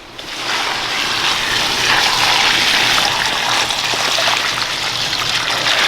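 Pond water pours from a bucket onto the roots of an avocado tree in a garden, a loud continuous splashing gush lasting several seconds.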